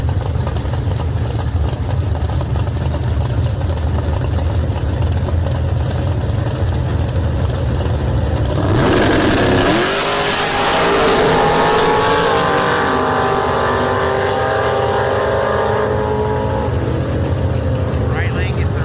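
Drag race cars at a bracket racing track roar down the strip, a loud engine surge building midway and carrying on with crowd and announcer talk over the steady rumble.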